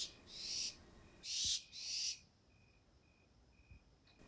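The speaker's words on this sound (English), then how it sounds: "Okay, barn owls are so cool." A barn owl in central California gives three harsh, hissing screeches in quick succession, loud and close. Quiet night ambience follows, with a faint repeating insect-like tone.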